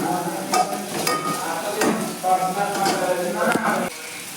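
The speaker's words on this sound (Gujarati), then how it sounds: "શાકભાજી બધા સંતળાઈ ગયા છે" Mixed vegetables sizzle in a hot pan while being sautéed for Maggi noodles, with repeated scraping stirs of a utensil against the pan. A voice talks over the close, steady frying.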